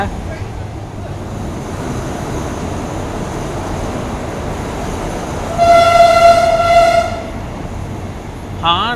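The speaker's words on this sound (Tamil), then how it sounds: "இன்ஜின் ஹார்னு தாறுமாறாக இருக்குங்க" A loud diesel locomotive horn on the Thailand–Burma Death Railway blasts for over a second over the steady rumble of the moving train, with a shorter horn note near the end.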